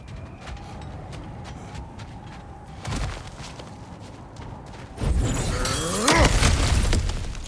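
A cracked stone wall is smashed apart in God of War Ragnarök: a loud crash of shattering rock and tumbling debris about two-thirds through, after quieter footsteps and a low ambient hum.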